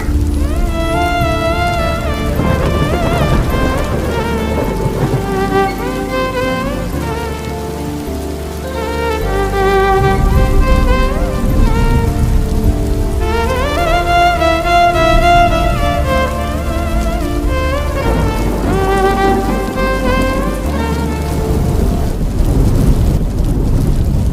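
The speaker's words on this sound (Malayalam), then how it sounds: "അയ്യോ, മഴ." Heavy rain pours steadily with a dense, constant roar, while tonal music or a melodic sound plays loudly over it.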